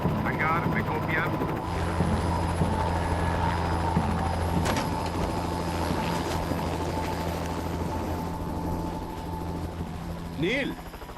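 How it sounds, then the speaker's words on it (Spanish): Rescue helicopter flying over a remote crash site, a steady mid-distance rotor drone with a constant engine hum under dramatic music and a brief voice near the end. "Un helicóptero recogió a Blake y se dirigió rápido al lugar."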